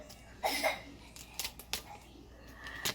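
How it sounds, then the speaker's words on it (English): Scissors cut open a package, making a few quick, quiet snipping and crinkling sounds, close by and spaced unevenly over a few seconds. "I'm just going to cut it this way."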